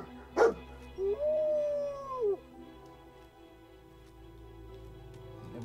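A dog companion in the video game Fallout 4 gives a sharp bark, then a long rising-and-falling howl of about a second, loud and close, fading into quiet ambient game sound.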